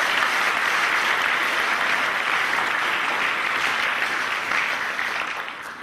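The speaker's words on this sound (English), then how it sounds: "Give her a round of applause." An audience claps steadily in a hall after a speaker is introduced, a loud, dense wash of applause that holds throughout and fades slightly toward the end.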